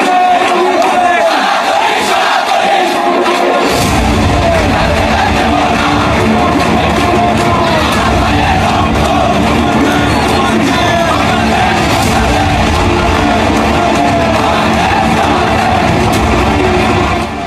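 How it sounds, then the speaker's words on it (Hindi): A massive crowd of Hindus on a protest march in Bangladesh roars and chants together in a dense, loud, continuous wall of voices that swells suddenly after a few seconds and keeps going without pause. "लाखों हिंदुओं की भीड़।"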